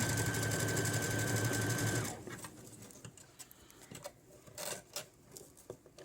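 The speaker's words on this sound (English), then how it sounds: "I'm just going to continue and go over this other seam the same way that I've been sewing the rest of the skirt." A sewing machine runs steadily while stitching over a skirt seam for a fishing-line hem, loud and close for about two seconds, then stops abruptly and leaves faint handling rustles and light taps.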